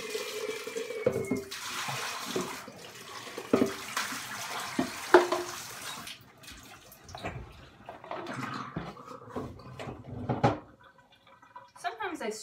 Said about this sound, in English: I'm going to rinse out my lye container really quick and set it aside.